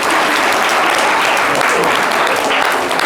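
Applause from a live studio audience on a French broadcast, dense and loud sustained clapping throughout, with no speech over it.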